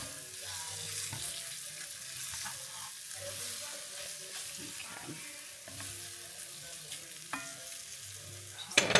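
Ingredients for beef bourguignon stirred and tossed in a hot pan, with steady sizzling and repeated scraping and clinking of a utensil close by, running throughout with no talk.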